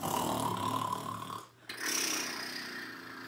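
Children in a theatre class imitating snoring with a continuous loud rasping snore, one brief pause for breath, then more rough snoring close up.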